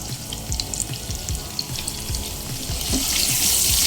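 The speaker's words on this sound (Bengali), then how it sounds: "নেড়ে ছেড়ে আলুগুলো হালকা লালচে করে ভেজে নেব" Potatoes fry in oil left from frying fish, seasoned with salt and turmeric, giving a steady, dense hiss that swells slightly toward the end, with faint low knocks beneath and no voices.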